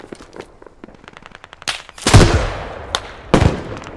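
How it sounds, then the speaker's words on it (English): Gunfire in the video game Squad: quick bursts of automatic rifle fire, then a few loud, close single shots with sharp cracks and trailing echo. "I'm gonna fucking shoot him"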